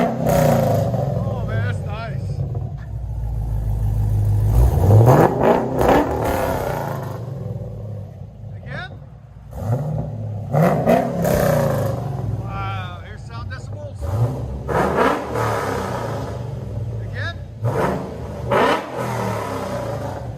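A Cadillac CTS-V fitted with an aftermarket exhaust, including an X-pipe and a rear delete, revs in several deep, loud bursts that rise and fall. People talk over and between the revs.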